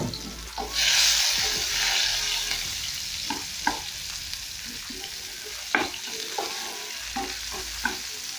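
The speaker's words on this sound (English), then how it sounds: "So at this point, I'll go in with my onions." Onions for egg biryani fry in a pan with a loud initial sizzle settling into a steady hiss, while a spoon stirs and taps the pan in intermittent clicks.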